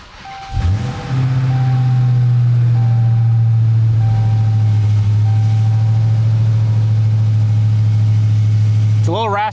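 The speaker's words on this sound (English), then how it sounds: "All right, cold start in a Hellcat." A brand-new 797-hp Dodge Charger Hellcat cold-starts with a sharp whir and roaring flare, then settles into a loud, deep, steady rumbling idle close by, and a brief voice cuts in at the very end.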